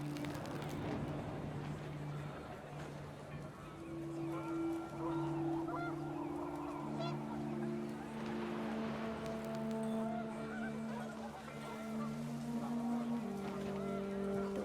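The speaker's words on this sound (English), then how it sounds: "panicked geese appeared and quickly went" Geese honk in the video game What Remains of Edith Finch, a steady run of overlapping honks and calls over windy outdoor ambience, moderately loud throughout with no voices.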